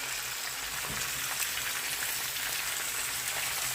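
Potatoes fry in lard in an uncovered pan, a dense, continuous crackling sizzle heard close and steady throughout.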